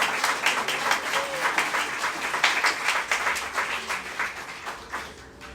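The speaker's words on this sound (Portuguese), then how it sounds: "Diga amém e aplauda o Senhor com o seu melhor." Church congregation applauding during a worship service, a steady wash of many hands clapping with rhythmic pulses, fairly close and sustained, some voices mixed in.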